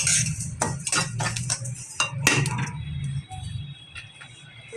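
Ajwain, sesame and fennel seeds being stirred together in a metal bowl for a homemade mukhwas mouth freshener: close spoon clinks and scraping in quick bursts, fading to a light rustle near the end.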